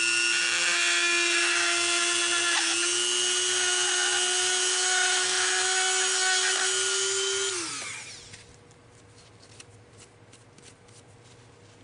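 A Dremel rotary tool cutting PVC pipe whines at a steady high pitch for about eight seconds, then spins down and stops, leaving faint handling noise.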